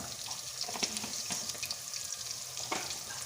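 Onions with dried coriander and other spices fry in a pan, a dense steady sizzle close by with occasional scrapes and stirring clicks, no talk over it.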